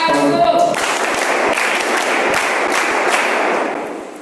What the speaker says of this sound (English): Give a big round of applause for these kids.